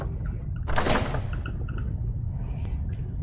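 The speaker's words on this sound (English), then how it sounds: "They now enter through the door." A door slides open in Garry's Mod with a single rough, scraping swoosh lasting about half a second, set over a steady low hum with faint beeping tones around it.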